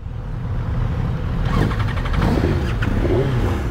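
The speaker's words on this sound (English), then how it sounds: "You have to give it quite a bit of throttle to get it to start" A Suzuki GSX-R1000 motorcycle with 100,000 miles on it catches and runs under plenty of throttle, its engine rumbling close and steady with a few quick revs rising over the idle.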